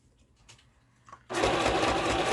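Sewing machine stitching fabric for a small sewn project: after a few quiet handling sounds, the machine starts abruptly and runs at a steady, loud, fast whirring hum up close.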